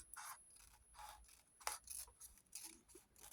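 Scissors cut through folded paper in a quick series of close, faint snips and rasping slices with no one talking.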